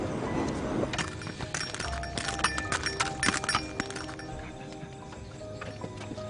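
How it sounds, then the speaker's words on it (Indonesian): A stallion's hooves clip-clop in a brisk, uneven rhythm, with sharp clustered clatters in the middle, under a faint neigh and steady background noise. "Kudanya kenapa meringkik terus"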